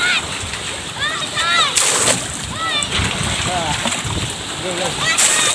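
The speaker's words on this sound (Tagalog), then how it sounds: "May mga batang naliligo." Children bathing in the sea splash and play near a shore, with repeated water splashes, excited shrill voices and shouts, and constant surf and wind noise underneath.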